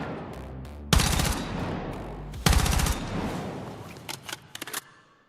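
M4 rifle fired in the video game Battlefield 6 with an attachment: two loud, sharp bursts of rapid automatic fire close up, then a few short scattered shots fading out, with no talking.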